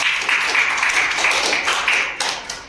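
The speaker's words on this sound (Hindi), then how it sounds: "चलिए, इसके लिए जोरदार तालियां" Studio audience clapping on a Hindi quiz show after a correct answer, a dense mid-level patter of hands that fades slightly toward the end.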